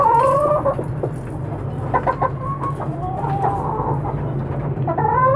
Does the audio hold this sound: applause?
no